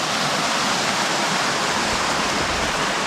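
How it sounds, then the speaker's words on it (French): A small but pretty waterfall rushes in a steady, dense wash of falling water, close and loud, with no voices. "Petite cascade mais jolie."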